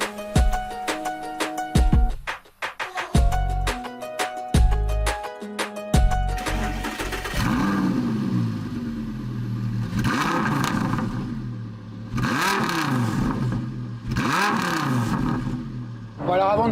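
Audi R8 V10 sports car starts, then revs and accelerates hard in repeated rising surges, loud and close, with the engine note sweeping up and down through several gear changes; people speak briefly over it.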